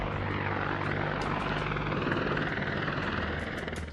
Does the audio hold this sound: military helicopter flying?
yes